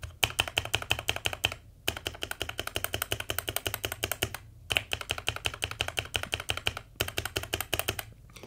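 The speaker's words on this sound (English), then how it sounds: "there is a little bit of a different sound on the space bar, whether you type on the left or right side" Keys clack in close, quick bursts on an Azio Tera 75 keyboard, including the space bar, with short pauses between flurries of crisp, bright strikes.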